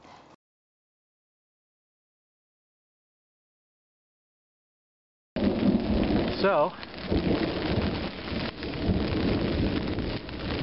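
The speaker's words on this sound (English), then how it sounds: "you can probably hear the thunder in the background" Steady heavy rain pours during a late-winter March rainstorm at a campsite, with a low rumble of thunder rolling through early on; the rain starts abruptly after a long silence, preceded by a brief voice.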